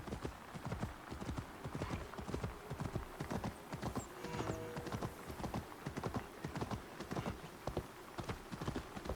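A horse mount gallops through the video game Assassin's Creed Valhalla, its hooves making a fast, steady clip-clop rhythm that runs for the whole stretch, close and moderately loud, with a brief whinny-like tone in the middle.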